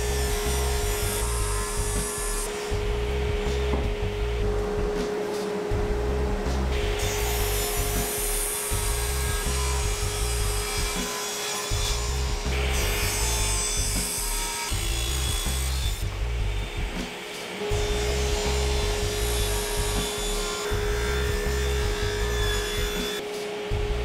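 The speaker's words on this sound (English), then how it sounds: "I'm going to resaw each half in half again" A power saw resaws wooden boards for a sign, cutting in long, loud, steady passes with a constant motor hum under rough cutting noise. Brief pauses separate the passes.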